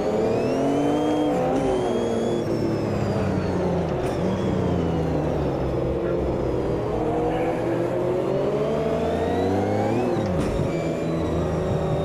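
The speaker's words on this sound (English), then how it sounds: "Getting that right tyre scrubbing out." Porsche 935/78 race car in the Automobilista 2 racing game, engine revving up and down through gears with tyres scrubbing and squealing through corners, loud and continuous.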